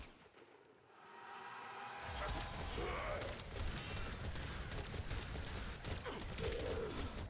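Rapid bursts of gunfire from a precision weapon in the video game Warframe, dense overlapping shots that start abruptly after a quiet opening and continue loudly to the end, with a voice briefly audible underneath.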